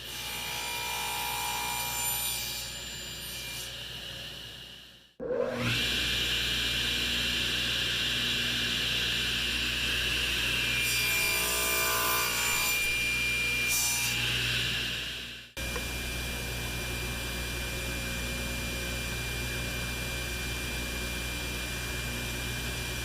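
Wooden splines for a broken mug handle repair are cut with steady, close, hissing rasping strokes that run continuously, pausing briefly twice.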